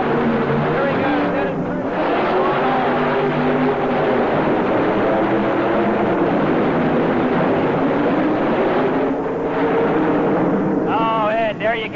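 A multi-engine modified pulling tractor with staggered engines roars down the track at the 1985 NTPA Indy Super Pull. The loud, continuous engine howl rises and falls in pitch beneath steady announcer commentary.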